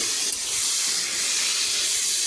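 Capsicum and tomato slices fry in hot oil, giving a steady, loud, bright sizzling hiss that holds without break, with no voices.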